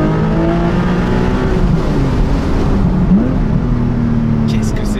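A Porsche 718 Boxster GTS with a 4.0 flat-six engine revs and pulls loudly up close, its tone climbing and dipping across a few seconds over steady road roar.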